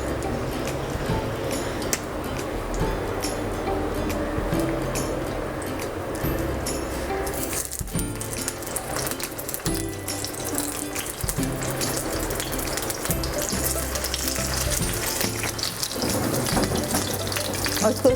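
Kebabs shallow frying one by one in hot cooking oil give a dense, continuous crackling sizzle, close and fairly loud, with a brief dip partway through before the bubbling resumes.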